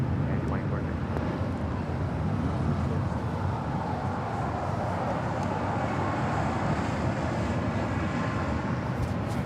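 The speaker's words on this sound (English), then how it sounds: "this flight coming in from Philadelphia, Spirit Airlines flight 267 on this A320neo" A Spirit Airlines Airbus A320neo arriving from Philadelphia at LAX gives off a steady, broad jet roar that holds level throughout, a loud continuous rumble with no speech over it.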